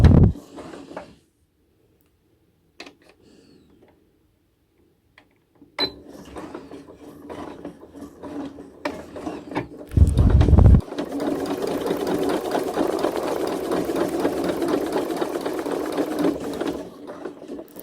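A sewing machine stitching a kids' face mask runs steadily and closely from about six seconds to the end, with a louder mechanical thump midway, after a near-silent start.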